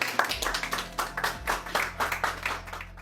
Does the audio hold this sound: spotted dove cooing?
no